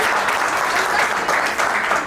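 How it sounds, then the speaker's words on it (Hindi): Audience applause at a poetry open mic in a cafe and bistro, a steady, dense burst of clapping from a room full of people, loud and close, with no voices over it. "एक बार जोरदार ताली बजाइए।"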